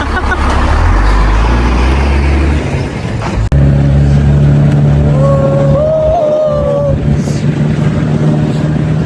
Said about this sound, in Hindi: ये गाड़ी यहाँ से चली गई है